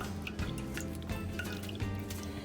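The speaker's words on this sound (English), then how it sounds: "I'm gonna strain out that water, and then I'll just let it sit here and dry" Water strained off dried cranberries that were soaked and microwaved, a soft continuous trickle with scattered drips and small splashes, quiet and close with no voices.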